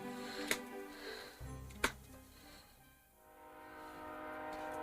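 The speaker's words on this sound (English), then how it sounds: "we got train sounds, we have ambiance" Ambient train sounds in the video game The Murder of Sonic the Hedgehog, a low sustained rumble with layered tonal hum and two sharp clacks, fairly quiet and steady without talk.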